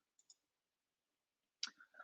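Two quick, soft computer mouse clicks sound close together in a quiet room, followed by a voice starting to speak.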